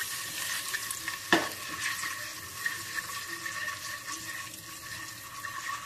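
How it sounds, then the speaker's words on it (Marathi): Eggs tossed in a pan with turmeric and chutney masala give off a steady frying hiss and scraping stir, with one sharp knock of a utensil against the pan. "थोडी हळद घालायची, पाव चमचा चटणी, फक्त असं टॉस करायचं याला"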